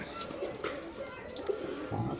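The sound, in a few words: pigeon cooing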